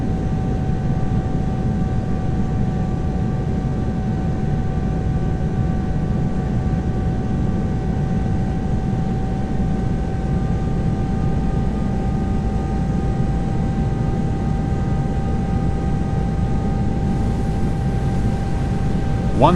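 Cabin roar of a Southwest Boeing 737 Max 8 on final approach, a steady, even wash of airflow and engine noise with faint constant tones, no talk, lasting throughout.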